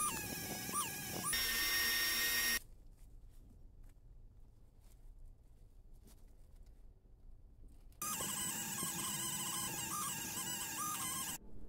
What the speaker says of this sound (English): it's now time to hit it with a wire wheel and really clean it up